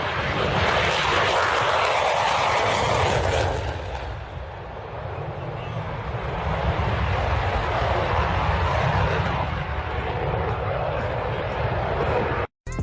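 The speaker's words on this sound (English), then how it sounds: "This F-16 performs a low pass and then does a vertical climb." Loud F-16 fighter jet roaring through a low pass and pulling into a vertical climb, a dense, broadband engine rumble that dips briefly mid-pass and swells again before cutting off abruptly at the end.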